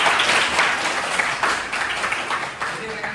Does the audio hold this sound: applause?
yes